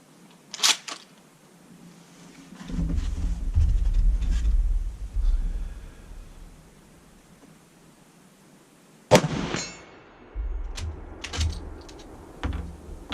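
Japanese Arisaka Type 99 short rifle firing 150 grain jacketed bullets at a 100 range: two sharp, loud shots several seconds apart, each with a short echo, then quieter handling noises.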